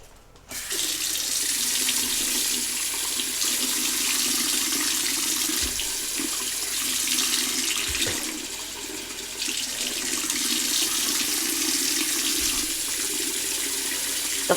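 A bathroom faucet runs steadily at close range, a constant hiss of water hitting the sink that holds for the whole stretch, with a few faint knocks and no voices.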